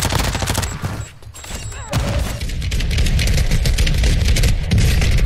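Dense, loud Call of Duty gunfire on Ashika Island, rapid automatic bursts and booms running almost continuously with a brief lull, close and intense, with no talk over it.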